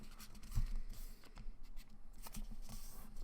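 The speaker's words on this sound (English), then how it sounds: "And then we're going to take it and fold it in half again." Paper folded in half a second time and creased by hand, a thin sheet giving soft, close rustling and brushing scrapes with a few light taps, quiet and continuous with no talking.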